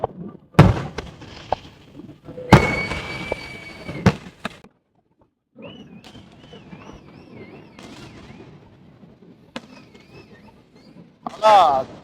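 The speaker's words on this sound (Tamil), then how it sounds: "துவங்கிட்டுங்க ஃபயர் ஒர்க் ஸ்டார்ட் ஆயிட்டு" Sharp fireworks bangs burst in quick succession at Niagara Falls at night, loud and close, followed by quieter crackling and distant pops with some voices mixed in.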